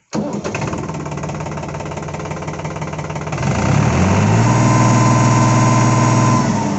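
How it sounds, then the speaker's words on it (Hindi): A New Holland 3600-2 tractor diesel engine cranks with a steady rough churning, then fires up after about three seconds and settles into a loud, even idle with a low droning hum, close by and with no voices. "मैं आपको स्टार्ट करके दिखाता हूँ"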